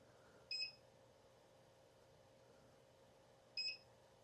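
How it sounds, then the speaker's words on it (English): Two short, faint electronic beeps about three seconds apart, each a clean high tone over a quiet background hum. "Some beeping noises."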